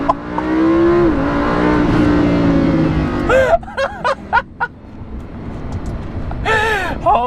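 A Lamborghini Huracan revs hard under launch control and surges forward. The engine tone climbs steadily before breaking off, and excited voices and gasps follow close by.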